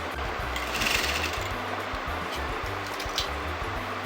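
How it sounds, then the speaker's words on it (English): A sewing machine runs steadily while stitching along the edge of the fabric for a top, with a rapid, even mechanical hum that holds throughout and no talking. "So now you're going to sew at the exact margin of the fabric."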